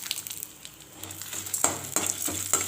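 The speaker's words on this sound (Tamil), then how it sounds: "அதே எண்ணெயில் 2 டேபிள் ஸ்பூன் அளவுக்கு உளுத்தம்பருப்பு, 1 டேபிள் ஸ்பூன் கடலைப்பருப்பு, ஒரு 5 வரமிளகா, 2 பச்சை மிளகா" Urad dal, chana dal, dried red chillies, green chillies and chopped ginger frying in oil on low flame, a quiet crackling sizzle with a few soft stirring scrapes, faint and close, no talking.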